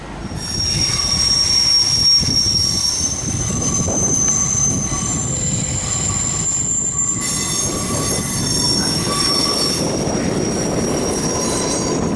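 An Italian intercity passenger train rolls past close by with loud, sustained metallic wheel squeal and rumble that persists throughout.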